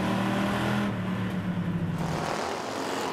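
Street stock race cars at Southside Speedway roar loudly as the race restarts on the green flag, a dense, continuous engine drone with pitch climbing and a pack passing close by, no talking.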